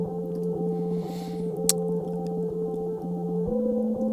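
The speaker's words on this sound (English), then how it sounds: "The main synth in the intro, which sounds like this" Droning electronic synth tones hold steady, pulsing rhythmically in a low register, with a pitch shift near the end and nothing else over them.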